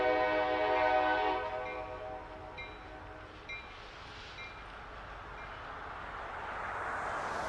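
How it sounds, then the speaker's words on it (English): A train horn sounds a sustained blast, fading into a distant echo, followed by the low rumble of a passing train. "And that's tonight's train."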